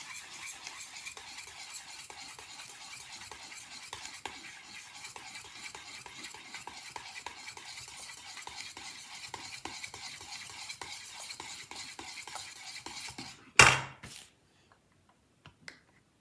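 A spoon stirs gelatin into plain yogurt in a bowl, giving a continuous soft scraping and clicking for many seconds, then a sharp clatter before it stops.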